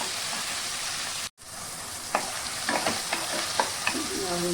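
Tomatoes sautéing in a pan for a Chettinad puli kari, a steady close sizzle of frying with a brief drop in level, then scattered soft scraping and stirring clicks over the continuous hiss.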